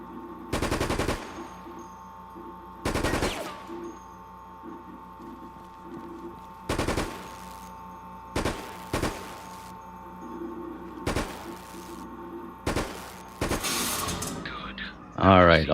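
Light machine gun bursts in the video game Resident Evil Operation Raccoon City, about ten sharp loud bursts spaced a second or two apart with a faint steady hum between them.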